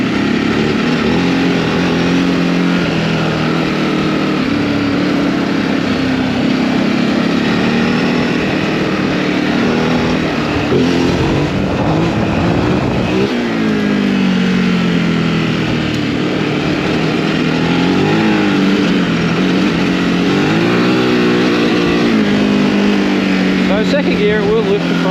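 Recorded on board, a Ducati Desert X adventure motorcycle's engine drones loud and close, its pitch rising and falling as the rider accelerates through the gears, with wind rush over it.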